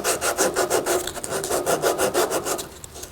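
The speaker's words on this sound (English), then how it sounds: "I have some 150 grit paper here. And I'm going to start sanding this round." Hand sanding a wooden carving with 150 grit sandpaper, a steady rhythmic scratchy rasp of back-and-forth strokes, close and fairly loud, with no talking.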